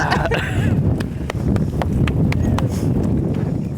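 Horse hooves clip-clop in a steady, fairly close rhythm over a constant low rumble of wind and movement.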